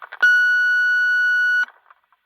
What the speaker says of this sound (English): Try and do the tone burst as well.